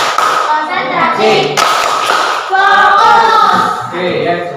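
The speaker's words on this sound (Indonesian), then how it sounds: "Tepuk bagus." Children clap together in a classroom clap routine, with loud, close rhythmic patterned clapping mixed with young voices chanting along throughout.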